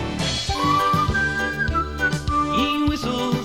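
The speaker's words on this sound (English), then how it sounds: "He whistles as he drives." A man whistles a cheerful tune from a Fireman Sam soundtrack cassette, clear melodic notes rising and falling over a bouncy musical backing.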